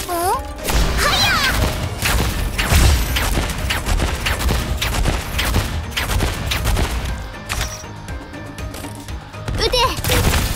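Rapid bursts of gunfire and impacts from the video game Arknights, on a snowy desert stage, fill the clip densely alongside game music and effects, with character voice lines heard over the shooting.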